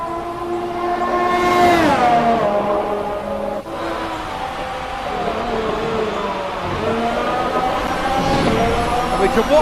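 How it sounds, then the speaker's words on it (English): On-board engine of Daniel Ricciardo's Formula 1 car in a 2018 PC racing game, 2019 Bahrain Grand Prix: a loud, sustained engine whine that climbs and drops in pitch through gear shifts, with a commentator speaking over it. "Let's have a listen on board with Daniel Ricciardo."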